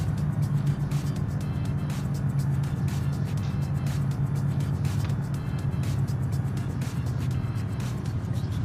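A car engine over-revs in the BeamNG driving game, a constant, loud droning roar with rapid pulsing throughout and no speech.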